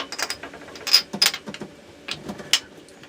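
A 5/8 standard spark plug socket being fitted onto a spark plug on a 4.5 L V6 Mercruiser engine, a few close metallic clicks and scrapes in short irregular bursts, with no talking.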